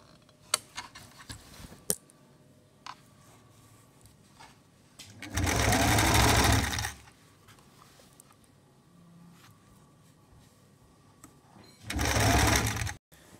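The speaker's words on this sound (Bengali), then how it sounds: "এখন আমি দুইও সাইড সেলাই করমু।" A sewing machine stitching the side seams of a long kameez: two close, loud whirring runs, the first about a second and a half and the second shorter, with light clicks and handling taps in between.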